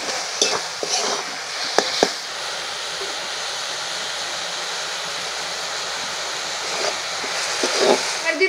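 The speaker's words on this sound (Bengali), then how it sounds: "এবার আস্তে আস্তে নেড়ে নেড়ে আমি নারকেলের পুরটা বানিয়ে নেব।" Coconut filling being stirred in a wok with bubbling jaggery for Bengali dudh puli pitha, a steady soft scraping and faint sizzle running throughout with a few sharper knocks near the start and end.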